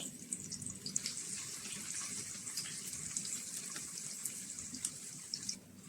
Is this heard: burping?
no